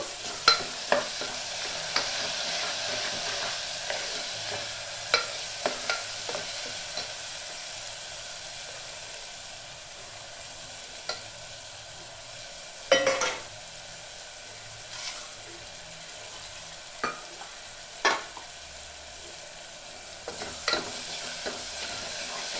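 Spice paste of ground whole spices and tomato frying in oil in a curry pan, a steady soft sizzle with intermittent scraping stirs and clicks throughout, close and alone without voices.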